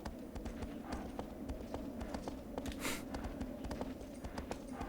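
Horse hooves gallop in a steady, rapid clip-clop rhythm through the Shadow of the Colossus video game, with the hoofbeats clear and continuous over a low rumbling bed of game ambience.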